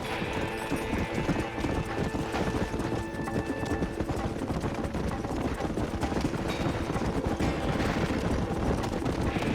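Rapid, continuous clip-clop of horse hooves at a gallop in the video game Red Dead Redemption, loud and close, with wind noise and a rumbling backdrop.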